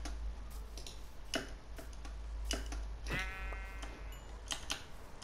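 Minecraft sheep bleats once in the middle, a short wavering cry among scattered clicks and ticking game sounds, no speech.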